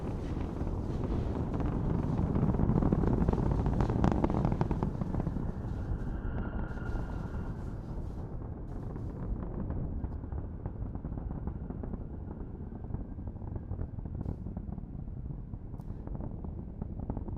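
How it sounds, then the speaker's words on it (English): Deep, steady roar of a SpaceX Falcon 9 rocket's Merlin engines during a launch from Cape Canaveral, a broad rumble heard from a distance, swelling early and then holding at a constant level with wind buffeting the microphone. "We're hearing the rumble of the Merlin engines."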